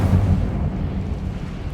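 An Incendio fire spell is cast in Hogwarts Legacy, giving a brief low whooshing burst of flame that rumbles and fades quickly without any speech.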